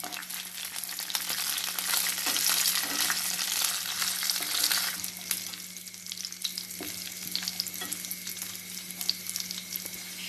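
Cashews, raisins and cardamom frying in ghee make a steady, close sizzle with faint stirring scrapes. The sizzle is louder at first and settles a little partway through, with no speech.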